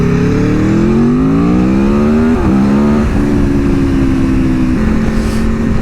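A loud engine revs high and shifts gears as a streetfighter-style Suzuki GSX-R motorcycle speeds past close by, its pitch climbing then dropping.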